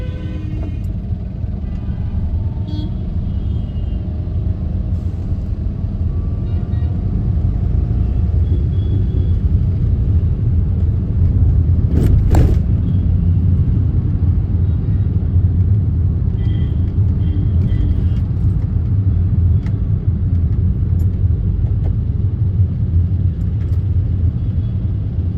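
Road traffic on the New Delhi to Gurgaon route, heard as a continuous low engine rumble and road noise at a steady level throughout, with a brief sharper sound around the middle.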